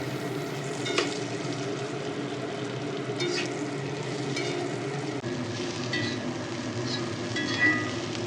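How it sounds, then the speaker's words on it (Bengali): Potato pieces fry in hot oil with bitter gourd and onion, giving a continuous sizzle broken by the scrape and rustle of stirring, with a few sharper clinks along the way. "এর মধ্যে কেটে রাখা উচ্ছে ও পেঁয়াজ দিয়ে ভালোভাবে নেড়ে চেড়ে হালকাভাবে আবারও ভেজে নেব"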